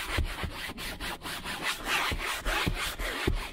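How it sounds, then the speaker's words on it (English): A microfiber cloth is rubbed briskly over damp car upholstery in a Skoda Fabia, producing a continuous series of rhythmic scrubbing strokes, close and fairly quiet with no voices. "I need to get a microfiber cloth and lift as much of that dirt out as I can."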